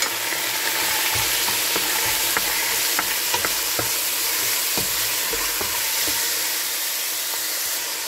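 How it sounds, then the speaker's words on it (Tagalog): Pork meat sizzles steadily in a hot pan with golden-brown sautéed onions, a continuous loud frying hiss broken by scattered pops and crackles, with no voices. "Ayan, golden brown na ang ating sibuyas na ginisa."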